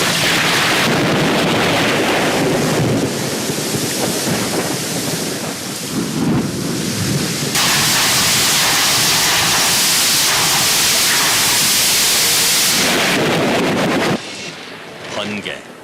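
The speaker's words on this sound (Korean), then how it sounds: "번개 한번 보죠." A violent thunderstorm roars with heavy rain and repeated crashing thunder claps, loud and dense throughout, with voices faintly mixed in before it cuts off abruptly near the end.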